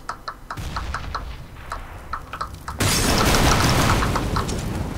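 A grenade blast in Counter-Strike: Global Offensive, a loud sudden boom that bursts in midway after scattered clicks and footsteps and leaves a dense, rumbling roar ringing to the end.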